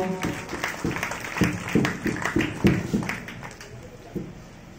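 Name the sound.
congregation applauding at church mass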